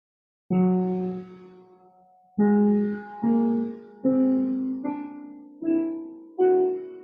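Piano notes in a short phrase: a long opening tone, then six notes struck one after another, each stepping upward in pitch and ringing briefly.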